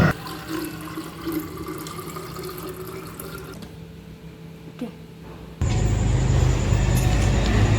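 Water runs steadily from a tap, a low continuous rush that swells abruptly louder near the end as the flow opens up, with no voices over it.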